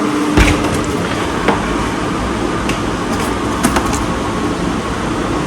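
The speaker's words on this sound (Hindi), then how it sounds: "पंखा भी चल रहा है, शायद आप लोगों को आवाज़ भी सही ना आए" An electric ceiling fan runs in a home kitchen during air fryer cooking, producing a steady, loud broadband whoosh throughout with a few faint clicks and taps from kitchen handling.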